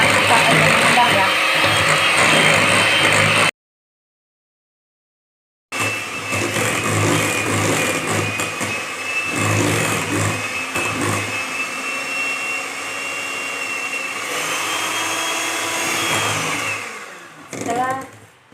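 Electric hand mixer whirring steadily as it beats sponge cake batter, a loud continuous hum that drops out briefly, then resumes and winds down at the end.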